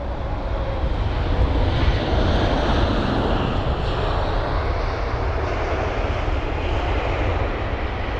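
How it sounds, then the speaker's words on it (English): British Airways Boeing 777-200ER jet at London Heathrow, a steady loud roar of engines sustained across the whole stretch without any voices. "As you could probably tell on the schedule, is the British Airways 777-200ER."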